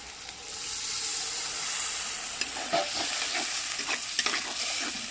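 Afghani chicken masala sautéing in a pan after a splash of water, a loud steady steamy sizzle with a few spatula scrapes and taps toward the end, close by.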